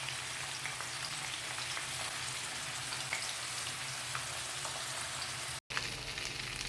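Sardine pieces frying in hot oil, a dense continuous sizzle and crackle held close and steady, briefly cutting out for a moment near the end before resuming.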